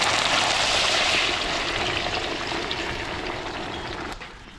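Water pours steadily into a cooking pot of onions and sardines, a bright rushing splash that slowly softens and stops near the end.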